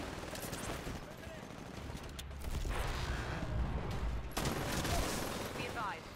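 SMG fire in the Titanfall shooter comes as dense, rapid automatic bursts, near and continuous across several seconds, with a heavier surge midway and game effects layered underneath.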